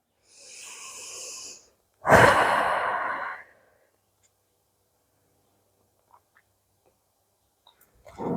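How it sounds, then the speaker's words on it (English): Bhastrika pranayama, forceful yoga breathing: two strong breaths, a long airy exhale followed by a louder, rougher one, then near silence with a few faint ticks before another breath starts. "So this is Bhastrika Pranayama."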